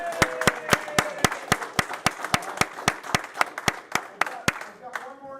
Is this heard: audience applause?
yes